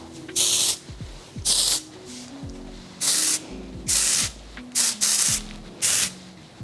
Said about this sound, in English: I like to add texture spray